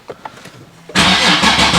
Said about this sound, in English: I haven't started the car today, so it's going to be a cold start